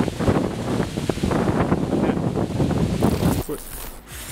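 Wind buffets an outdoor microphone during a no-equipment chest workout, a loud, steady low rumble with gusty surges throughout, easing briefly near the end, with a muffled voice faintly audible underneath.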